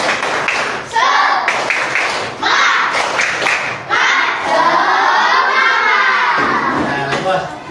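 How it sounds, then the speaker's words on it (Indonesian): A school class claps out the rhythmic 'tepuk semangat' spirit clap during an Islamic education lesson, loud patterned bursts of many hands with brief pauses, mixed with children's shouting voices. "Ya, tepuk semangat."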